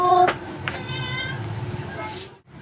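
A cat meows a couple of times in a home setting, fairly close, with a person speaking over and around the calls.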